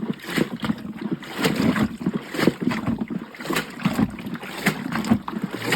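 Clothes being agitated and sloshing in rinse water inside a LAVARIO off-grid manual washing machine, with rhythmic splashing and swishing surges repeating close by.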